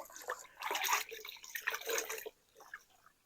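Clean water runs over and rinses a motorcycle oil filter during a Beta 390 oil change, a splashing, dripping stream that comes in two bursts, then trails off into quieter trickles.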